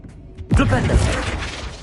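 Flipendo knockback spell in the Hogwarts Legacy video game striking an object: a brief soft lead-in, then a sudden loud cracking, shattering impact with a rumbling tail, near and alone.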